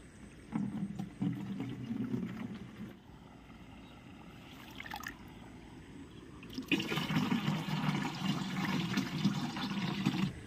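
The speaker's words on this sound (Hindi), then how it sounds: "ये अब पानी भर लेते हैं, ये लाए हुए पानी भरने के लिए।" A container is filled with water out in a farm field, with quiet sloshing and trickling that comes in two louder stretches separated by a calmer gap.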